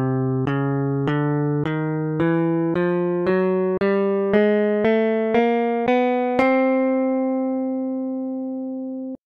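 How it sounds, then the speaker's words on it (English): Sampled guitar notes from a basic instrument built in the Tracktion Multi Sampler, played as a steady rising sequence of about twelve even plucked tones, each clean and sustained, the last ringing out alone. "So now we have a very basic sampled guitar."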